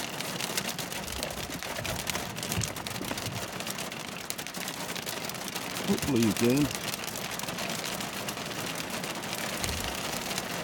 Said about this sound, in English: We're going to enjoy a little hail here